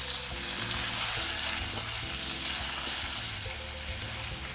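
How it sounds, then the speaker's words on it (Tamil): Taro root sautéing with spice powder in a pan for a crispy roast, giving a steady close sizzle and frying hiss with occasional stirring scrapes and no voices. "பொடியை போட்டு 2 நிமிஷம் தான் வதக்கியிருக்கேன்"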